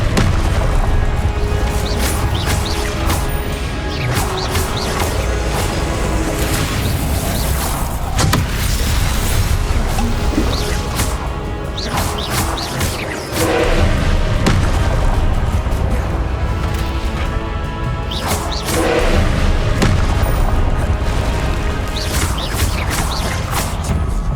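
Fire spell explosions in the video game Hogwarts Legacy, loud booming blasts and crashing impacts over a dense, continuous wash of game sound and music.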